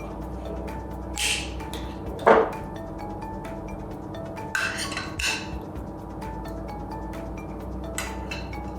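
A metal spoon scoops homemade ice cream from a glass mason jar, giving a few light, scattered clinks and scrapes of metal against glass over a quiet background.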